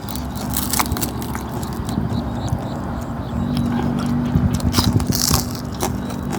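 Someone eating dried fish, close crunchy bites and chewing in an uneven rhythm, with faint voices and clatter in the background.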